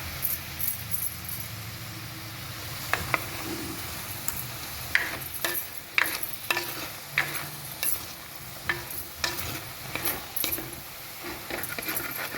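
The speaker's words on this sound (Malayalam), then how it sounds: "എന്നിട്ടൊന്ന് നന്നായിട്ടൊന്ന് മിക്സ് ചെയ്യാം." A prawn and mango curry is stirred in a hot pan, a utensil scraping and clinking in an irregular rhythm over a steady sizzle, close and fairly loud with no talking.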